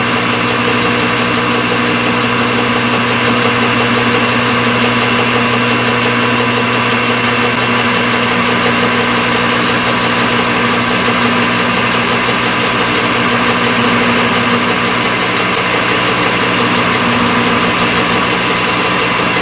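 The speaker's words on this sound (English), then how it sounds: "All we're going to do is just take the 1/2 inch drill," Loud, steady whine of a half-inch power drill drilling into a fuel can, running continuously at close range, droning with a constant pitch throughout.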